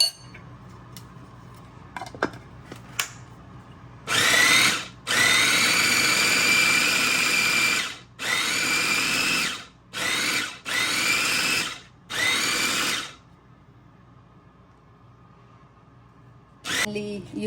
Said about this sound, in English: using blender.